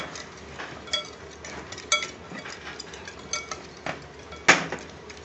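Paneer tikka ingredients being mixed with mustard oil in a bowl, with irregular clinks and scrapes of a utensil against the bowl and a few sharper knocks, close up.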